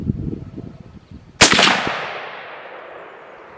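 A single loud T/C Compass .300 Win Mag rifle shot cracks out sharply outdoors, then a long rolling echo decays over the following seconds, with faint rustling before the blast.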